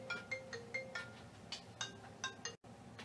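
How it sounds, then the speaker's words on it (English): A phone ringtone sounds for an incoming call, a quick run of short chiming notes repeating in a steady pattern at moderate level, then breaking off suddenly near the end. "I got a phone call"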